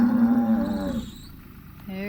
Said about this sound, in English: Oh, look at the cows come running.